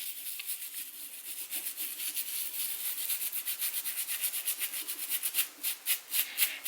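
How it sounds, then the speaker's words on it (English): Wig lace being scrubbed in small circular motions to lift off glue, a faint, fast rhythmic scratchy rubbing that repeats steadily and gets more pronounced toward the end, with no voices. "I'm going to hold the tip of the hair with my fingers just to stretch the lace out. And I'm going to begin scrubbing. Little circular motions."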